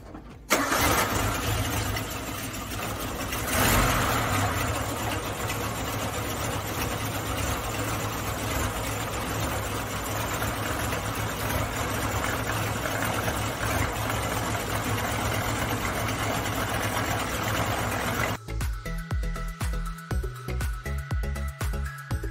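A Suzuki Samurai engine cranks and catches, then runs at a steady loud idle for most of the clip before dropping to an uneven, sputtering chug near the end; no one speaks.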